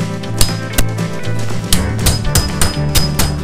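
Center punch struck with a hammer to mark metal before drilling holes during a motorcycle light and speedometer install; several sharp metallic taps ring out close up in an uneven rhythm over a steady background hum.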